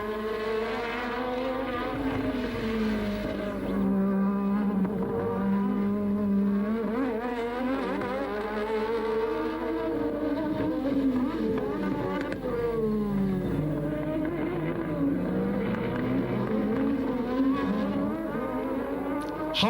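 1986 Formula One cars race at Jerez, Spain, their high-pitched engines screaming and shifting pitch as they brake and accelerate through a twisting section, a sustained loud wail from close by.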